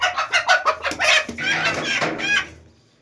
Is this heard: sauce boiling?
no